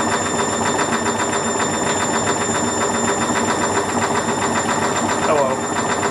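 A Whirlpool washing machine runs its rinse cycle with suds still inside, a loud, steady mechanical hum with a rapid rhythmic pulsing and faint whirring, continuous throughout with no talking.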